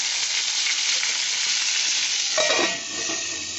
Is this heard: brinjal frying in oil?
yes